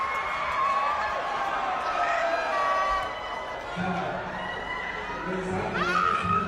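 A crowd cheering and shouting plays back from a video, with children's voices rising in a lively, continuous roar, mixed with talking voices over the top.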